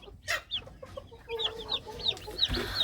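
Soft clucks and high peeping from Silkie chicks, irregular and close, with brief pauses between calls.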